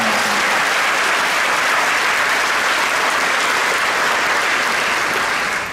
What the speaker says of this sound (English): I'm really happy you guys clapped on that line.